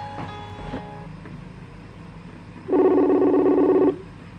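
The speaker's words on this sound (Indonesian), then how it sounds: "Ya teman-teman, sekarang kita lagi nelpon." Telephone ringback tone heard while placing a call, a steady buzzy tone with harmonics sounding once for over a second, clear and fairly loud after a quieter stretch with faint earlier tones.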